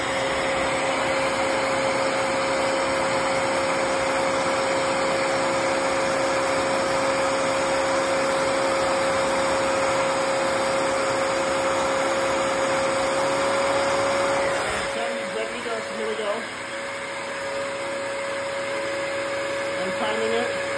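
A Bissell CrossWave HydroSteam floor cleaner runs with a steady motor whine and broadband suction hiss that holds for about fifteen seconds, then the tone drops and becomes softer and rougher as the machine moves off.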